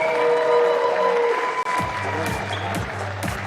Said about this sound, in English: So round of applause to Juan Vargas